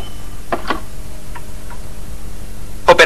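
An old rotary telephone is dialed, giving a few sharp clicks and ticks in small clusters over steady background hiss, ending in a louder rattling snap, with no talking.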